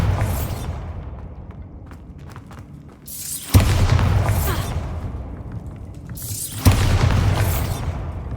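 Two booming Bombarda explosion spells from Hogwarts Legacy, each a loud sudden blast with a rumbling tail, arriving a few seconds apart after a quieter stretch of rumble and faint clatter.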